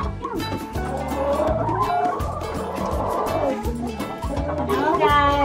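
Hens cluck and chatter close by in a steady, busy flock, with a person speaking over them throughout.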